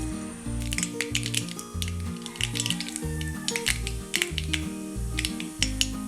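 Mustard seeds crackle and spit in hot coconut oil in a pan, sharp irregular pops scattered over a soft sizzle, with steady background music underneath.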